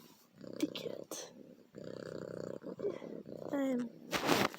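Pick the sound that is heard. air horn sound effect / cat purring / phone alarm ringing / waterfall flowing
cat purring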